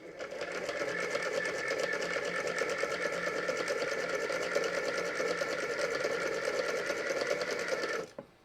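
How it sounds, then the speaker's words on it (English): A drum-type linker machine stitches along the edge of a knitted hoodie, running with a steady, even whir of rapid, regular stitching. It stays close and continuous for about eight seconds, then stops abruptly. "regardless of what type of linker you use, whether it's this drum type mechanism or any other type of mechanism you've got, you never want to rev your machine"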